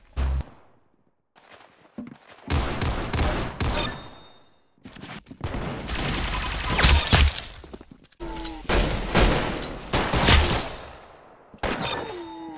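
Gunfire in the Roblox shooter game Arsenal: loud bursts of rapid shots and short volleys broken by brief pauses, with sharp impact and shatter-like sounds mixed in.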